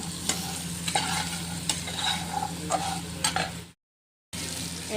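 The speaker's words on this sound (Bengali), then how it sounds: "একটু নেড়ে চেড়ে আর 2-1 মিনিট ঢেকে রাখবো।" A potato, chickpea and pointed gourd curry with turmeric and salt is stirred in a frying pan. A continuous sizzle comes with scraping stirs and a few soft knocks, then a brief gap of silence, and then the frying resumes.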